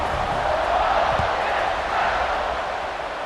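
A packed football stadium roars in a broad, sustained wash of crowd noise in the closing seconds of a tied game, just before the kickoff, steady and loud throughout.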